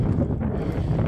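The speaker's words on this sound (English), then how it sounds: "Even in the summer it's windy here" Summer wind blowing steadily across an open nature reserve walk near Rye, East Sussex, a continuous low rumbling buffet on the microphone with no break.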